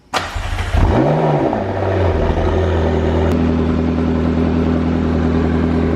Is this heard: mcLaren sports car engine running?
yes